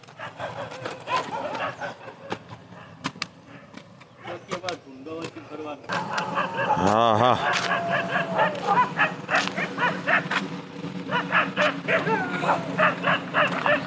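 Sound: dog barking on a farm

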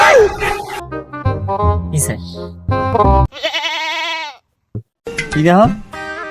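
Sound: goat bleating

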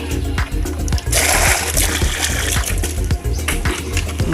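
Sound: hauling water with bucket from deep well

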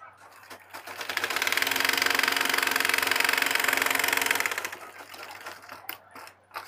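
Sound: sewing machine stitching trouser pajama

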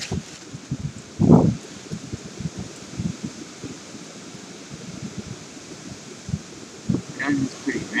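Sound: strong wind blowing leaves around

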